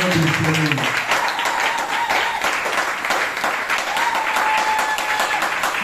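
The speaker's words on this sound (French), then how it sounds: "Est-ce que je peux acclamer très fort le roi de Seigneur du Seigneur?" Church congregation applauding and cheering for the Lord, dense steady clapping filling the room with a few voices and shouts mixed in throughout.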